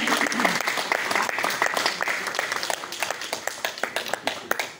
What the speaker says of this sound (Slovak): a potleskom vás odprevadíme